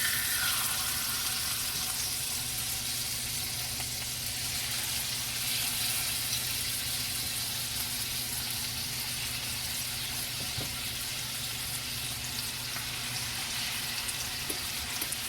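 Lamb chops fry steadily in hot grease, a dense continuous sizzle that holds loud and even throughout with no voices.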